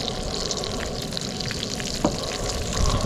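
Brown trout coated in blackened Cajun seasoning sizzles steadily in a hot pan, a close, continuous hiss with a faint pop near the middle and slightly louder crackling at the end.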